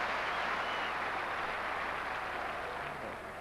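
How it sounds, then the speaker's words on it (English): Fans clapping at a 1993-94 Premier League football match between Newcastle United and Swindon Town, a steady broad wash of applause from the stands lasting the whole moment and easing slightly at the end. "Appreciative round of applause from the fans."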